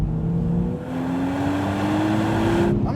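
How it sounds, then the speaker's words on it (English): A 2023 Nissan Z, rear-wheel drive, accelerating with a rising engine note that climbs steadily in pitch over a few seconds. The engine sounds close and fairly loud, with no voices over it. "If I do want to put my foot down a little bit,"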